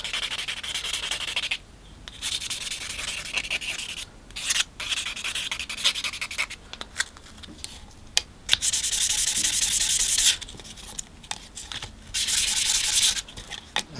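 Plastic straight razor scales are rubbed by hand against sandpaper in a steady series of raspy back-and-forth strokes, close and fairly loud, with short pauses between bursts.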